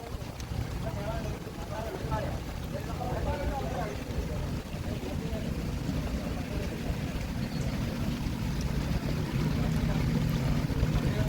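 A boat engine drones low and steady throughout, mixed with wind, rain and water noise, while a person talks over it.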